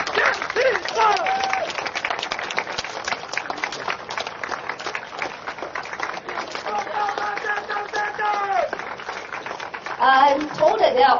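An outdoor political rally crowd claps in sustained applause, a dense patter of many hands continuing for several seconds, with voices and cheers mixed in and a swell at the end.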